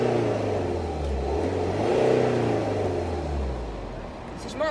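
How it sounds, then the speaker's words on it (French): BMW 3 Series with a biturbo V6 revving in sport mode: the engine note rises and falls in a smooth, close growl, with a short voice coming in near the end. "si je passe en mode sport, elle fait un bruit qui est assez bien"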